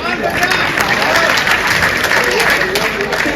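A crowd applauding at a Hindi poetry stage show, a loud continuous roar of clapping and cheering mixed with crowd noise, steady from start to finish.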